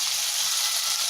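Tomatoes with ginger-garlic paste, curry leaves and salt sauté in a pan for egg gravy, giving a steady, close, bright hiss that runs unbroken through the short moment with no talking.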